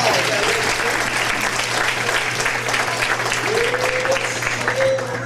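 Sustained applause from a crowd honoring an award recipient, steady and dense throughout, with a few brief voices rising over the clapping near the end.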